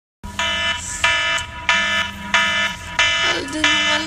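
An electronic alarm goes off indoors, a loud tonal beeping repeating in regular bursts about every two-thirds of a second.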